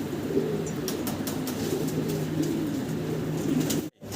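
Fancy pigeons, including American pairs, coo steadily and close by in their pen, a continuous low rolling murmur with a few sharp taps and rustles.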